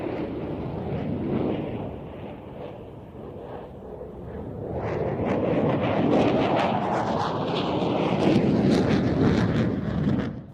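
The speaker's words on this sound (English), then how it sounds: "The F-16 completing that Cuban 8, and both aircraft heading out to the left-hand side for the next manoeuvre." An F-16 fighter jet flies an aerobatic Cuban 8 manoeuvre at an air show under clear skies, its broad roaring rumble growing louder and fuller midway through, with wind buffeting the microphone throughout.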